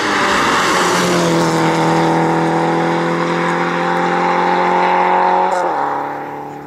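Rally car passing at speed on a stage of a 2018 rally in Jastrzębie Zdrój, a loud high-revving engine roar that holds steady and then drops pitch and fades as it goes by.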